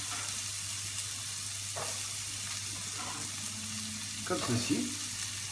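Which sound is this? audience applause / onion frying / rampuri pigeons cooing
onion frying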